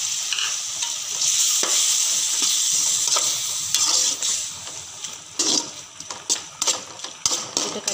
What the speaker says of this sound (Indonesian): Kita kacau 1 minit ya, bagi sotong kita masak sikit